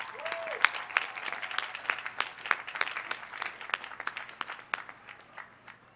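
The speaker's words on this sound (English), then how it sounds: "So how about a round of applause for them?" Applause from a commencement audience in an open venue, a steady patter of many hands at moderate distance, with a brief whistle near the start.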